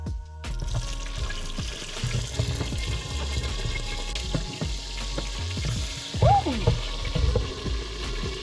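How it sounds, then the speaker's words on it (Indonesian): Shrimp paste and chilies fry in hot oil for sambal, a continuous close sizzle with crackles, pops and occasional stirring clatter. "jadi aku goreng aja sekaligus. Dan cabainya."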